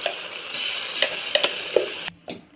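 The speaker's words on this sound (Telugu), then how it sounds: "ఇలా ఉల్లిగడ్డలు వేగాక మనం మిక్సీ పట్టుకున్న గ్రేవీ వేసుకోవాలి." Ground onion, turmeric and ginger paste gravy poured onto frying onions in a pan for paneer curry, crackling and sizzling steadily with a few sharp spatters and stirring clicks before the sizzle drops away near the end.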